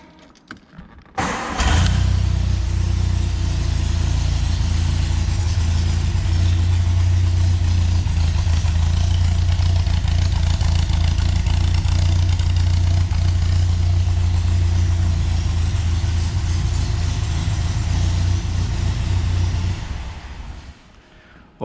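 A 1962 MG MGA MkII engine cranks and catches about a second in, then settles into a steady, loud, close idle with a deep low rumble that runs unbroken until it shuts off near the end.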